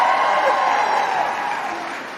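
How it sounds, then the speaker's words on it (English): Dense applause and crowd noise fill a large room at a makeup artists and hair stylists guild awards ceremony, loud and steady, easing slightly toward the end. "You can give yourselves another round of applause."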